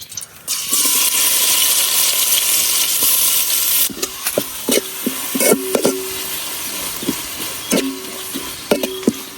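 Onion and garlic hit hot oil in a cooking pot, starting with a loud, steady sizzle that later thins out into crackling broken by scraping clinks of stirring, with no talk.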